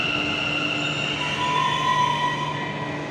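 A metro train bound for Whitefield rolls in with a steady rumble and high, thin squeal of wheels on rails, loud and continuous, no speech.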